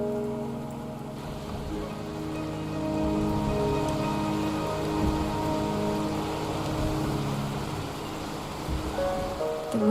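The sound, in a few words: rain in video game Wuthering Waves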